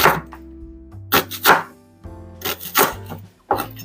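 A knife chops a yellow onion on a cutting board in a home kitchen, giving several clusters of quick, close thunks with short pauses between them. No one speaks.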